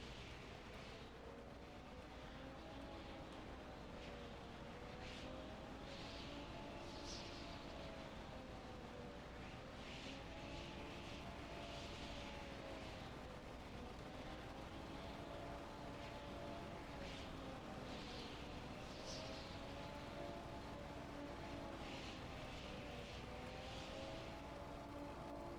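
Propeller engine of an I-400 carrier aircraft in a video game, throttling up for a rail launch: a steady droning buzz with gently wavering pitch, loud and continuous for the full stretch, with no voices.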